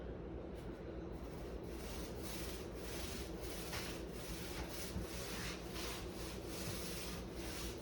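Wood window trim being sanded by hand, a steady continuous rubbing scrape with repeated back-and-forth strokes, close and moderately loud with no talking.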